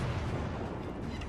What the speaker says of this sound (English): It's a bit lackluster shooting just one little cannon on the back of the ship as I'm running away